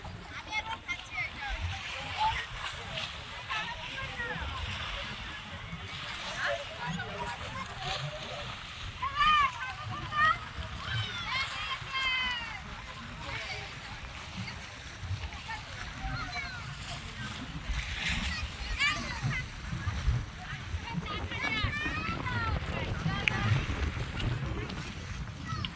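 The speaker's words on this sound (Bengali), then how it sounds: "এখন একটু ঢেউ আছে, তার কারণ হচ্ছে জোয়ার চলছে" Tidal waves at the Kaikhali river mouth, where it meets the sea, slosh and splash continuously with wind noise, mixed with boat sounds and voices talking nearby.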